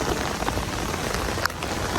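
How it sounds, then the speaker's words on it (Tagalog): Steady rain falling on a surface, a dense, loud, continuous hiss close by with no voices. "umuulan"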